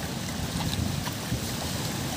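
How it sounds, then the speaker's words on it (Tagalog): Strong wind buffets the microphone at the seashore with rough surf behind it, a loud, gusty rushing roar over the short stretch. "Mahangin po dito sa amin ngayon. Malakas ang dagat."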